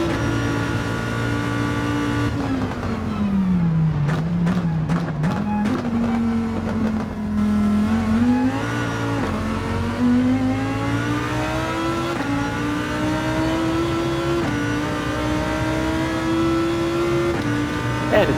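A Lamborghini GT3 race car engine in a racing video game, loud and continuous, with revs rising and falling and a rapid series of gear-shift or downshift bursts near the start.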